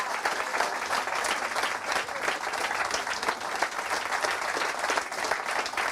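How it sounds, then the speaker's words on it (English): A rugby club crowd gives a long, dense round of applause at a club event, steady and loud throughout without a break. "Ladies and gents, give a huge round of applause."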